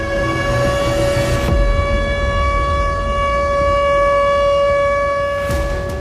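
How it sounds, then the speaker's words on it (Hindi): A loud, steady warning siren wails with a sustained tonal drone, close and continuous, with a brief break in the middle and no voices over it. "सायरन की आवाज सुन रहे हैं आप?"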